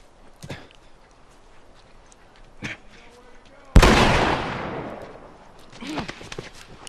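Gunshots in The Last of Us: a few sharp cracks early on, then one loud close blast with a long decaying tail, followed by fainter shots, with voices talking around them.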